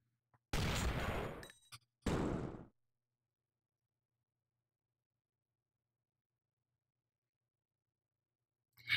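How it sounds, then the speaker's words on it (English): Two short bursts of gunfire from the video game Iji, a dense volley followed by a shorter one, then near silence before a faint blip at the end. "And then shoot her."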